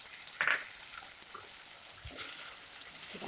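Chili sambal sauce cooking over low heat while being stirred, a soft steady sizzle with one brief scraping burst early on, faint and continuous with no voices.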